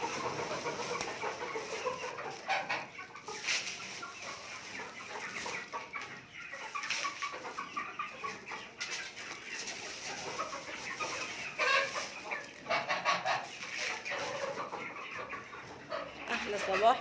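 Ducks, geese, pigeons, chickens and other poultry kept on a rooftop cluck and crow steadily throughout, a busy mix of bird calls with a dog barking at moments.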